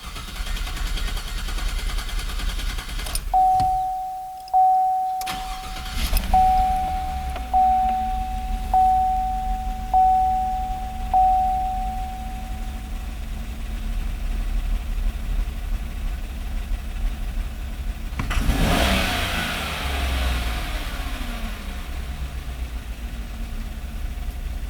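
Car engine idling during an in-cylinder pressure test, with a sharp throttle snap partway through that briefly rises before settling back to a steady, moderately loud idle; no talk.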